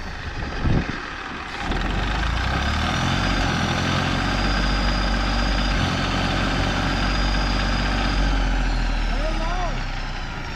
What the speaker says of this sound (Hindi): ट्रैक्टर फंस गया भैया, देखो नहीं निकल पा रहे हो।